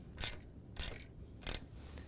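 Three short, sharp metallic ratcheting clicks spaced about half a second apart as a 15mm wrench snugs the axle nuts on an e-bike wheel, close and fairly quiet.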